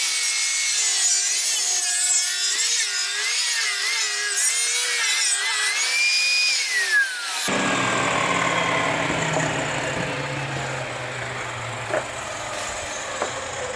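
A power saw cuts through a wooden board for a floating shelf, a loud whining buzz that wavers, then gives way to a rougher, grinding cut and motor hum.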